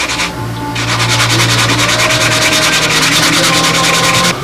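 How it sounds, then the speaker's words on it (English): A sanding block rubs back and forth over the wooden part of a model airplane, a Brodak Nobler kit, in quick regular strokes. The rasping is loud, close and continuous, with no talk. "I want to take a sanding block and just dress this right off even here"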